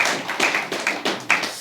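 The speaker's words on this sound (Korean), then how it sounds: "우리 좋으신 하나님께 영광의 박수 드리겠습니다" A church congregation claps during a Korean worship service, five sharp bursts of hand-clapping in a quick uneven rhythm, close and fairly loud.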